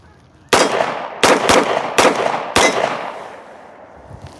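Five sharp, loud gunshots from a Tisas BR9 pistol firing steel-cased ammunition ring out in an uneven sequence, each with a ringing outdoor decay, followed by a fading tail and faint movement.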